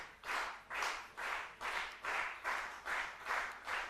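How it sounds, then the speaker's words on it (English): Spectators at a men's 10m air pistol final clap in a slow, steady unison rhythm, about two claps per second, bright and even, no talk. "Now people are going clapping to make it more intensive"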